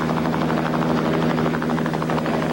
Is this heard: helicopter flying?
yes